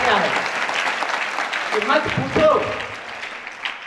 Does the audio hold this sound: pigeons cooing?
no